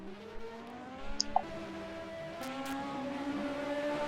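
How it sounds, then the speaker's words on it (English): CART race cars from 1988 getting back on track, a droning engine tone with shifting pitch, distant and steady in the background, slowly building, no talk. "As I can now hear in the background cars getting back on track."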